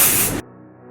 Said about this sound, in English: So I'll spray it on my top.